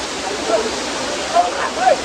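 A dense, even hiss of falling water from Lihonjar waterfall in Karbi Anglong fills the short stretch, steady and close, with faint voice fragments on top.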